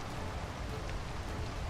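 Steady rain falling in the stormy sky world of the video game Worlds Adrift, a dense, even hiss that stays constant and fairly loud throughout with no voices over it.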